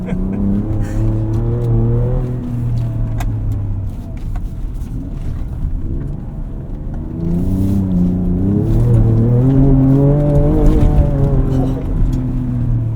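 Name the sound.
2024 Ford Ranger Raptor driving off-road over dips and jumps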